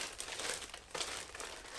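Soft, close crinkling of a plastic bag, a steady rustle with a couple of sharper crackles, quiet and alone.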